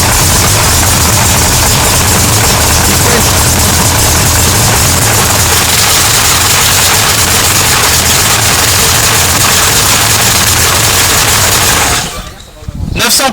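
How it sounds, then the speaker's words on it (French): A supercharged 383 engine in a 1966 Chevelle muscle car roars loud and close with a harsh, rapid-firing rumble that holds steady for about twelve seconds, then drops away abruptly before coming back. Voices talk underneath. "Vas-y, démarre le moteur"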